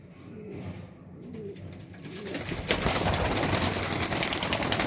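Domestic white pigeons coo softly near the start in a backyard loft, then a loud broadband rush of wing flapping or handling noise takes over and continues to the end.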